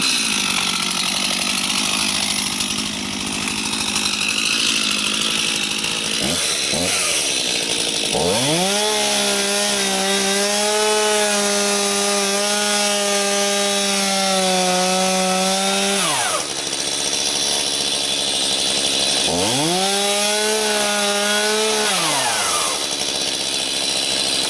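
A Stihl MS251C chainsaw cuts wood while an easement is being widened. The engine roars loud and close through two long revved cuts separated by a brief drop to idle, with no talk.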